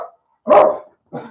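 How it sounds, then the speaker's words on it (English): A tiny dog barks as it passes by a window, two short sharp barks separated by a pause, fairly close and clear with no talking over them. "tiny wee dog went by the window."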